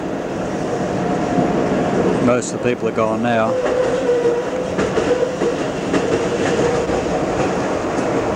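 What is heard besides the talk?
Berlin tram running on rails, 1991–1992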